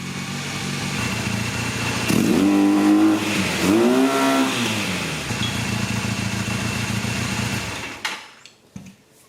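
A Honda 450 Nighthawk motorcycle engine runs after its first start in over eight years, a steady idle with two rising revs, close and fairly loud before cutting off.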